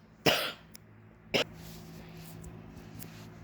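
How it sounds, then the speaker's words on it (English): A person coughs in a short fit, with one harsh, loud cough followed about a second later by a shorter second cough, then quiet room hum. "I got into a coughing fit."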